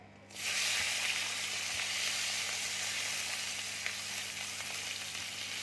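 Onions dropped into hot oil for an egg curry, bursting into a loud, steady sizzle that starts suddenly and holds evenly close by, with faint stirring clicks.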